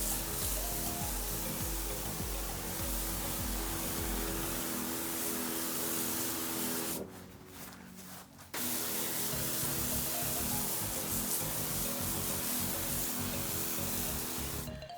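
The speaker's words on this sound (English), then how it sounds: "I sprayed my whole lawn with the Fiesta." Fiesta herbicide sprayed across a clover-covered lawn gives a loud, continuous hiss up close. It cuts out briefly in the middle, then resumes steadily.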